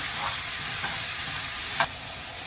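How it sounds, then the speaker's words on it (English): Ground meat browns in a cast iron skillet with a dense, steady sizzle throughout and a couple of brief utensil scrapes, close and alone without talk. "We're going to put in our ground meat and get that nice and browned."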